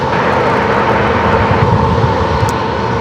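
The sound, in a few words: Southwest Boeing 737 MAX 8 airliner at San Diego airport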